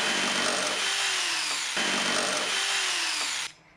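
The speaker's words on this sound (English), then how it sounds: "I used a jigsaw and began to cut each one of the pieces over and over" A power saw buzzes loudly through wood in two continuous cutting passes, then stops abruptly.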